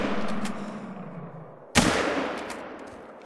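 A single loud, sharp rifle shot cracks out while hunting in theHunter: Call of the Wild. It rises abruptly from a steady outdoor ambient bed and leaves a short, decaying tail.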